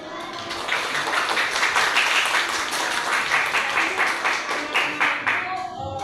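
A classroom audience applauds group presentations, steady dense clapping from many hands lasting throughout, close and fairly loud, with no talk over it.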